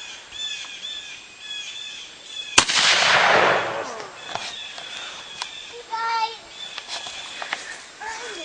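A .410 double-barrel shotgun fires once outdoors on the Fourth of July. The blast is sudden and loud, with a rolling decay, amid birdsong and the faint voices of people nearby.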